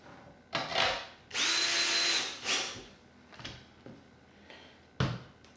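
A power drill drives a screw into a ported subwoofer box in short bursts, with one long, loud whirring run in the middle and quick, close revving pulses before and after.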